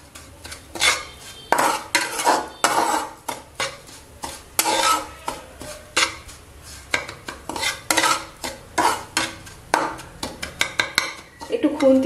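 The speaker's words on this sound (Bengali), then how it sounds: "একটু খুন্তি দিয়ে মাঝে মাঝে এরকম করে দিচ্ছি" A metal spatula scrapes and stirs spices through oil in a pan over a low flame, for a spiced potato curry served with bedmi poori. The clinks and scrapes come in a steady, repeated rhythm, close and fairly loud.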